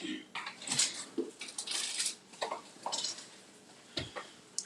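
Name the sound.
aluminum foil tray being handled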